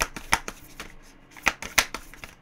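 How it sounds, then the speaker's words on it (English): A large tarot deck is shuffled in quick riffles and taps, with sharper snaps standing out every so often, close and alone. "This deck is so awkward to shuffle."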